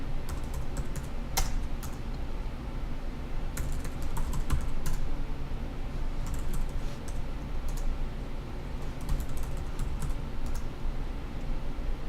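Steady typing and key clicks on a computer keyboard while working in music software, a continuous patter of close taps under a constant background hum.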